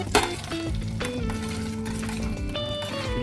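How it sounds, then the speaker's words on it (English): Fluffed-up potatoes are stirred into a pan of hot oil for roasting, giving a close sizzle and crackle with scraping stirs and a few clinks against the pan. "Stir in fluffed up potatoes."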